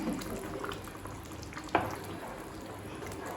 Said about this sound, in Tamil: இப்போ ஒரு ரெண்டு நிமிஷம் நல்லா கொதிக்கட்டும்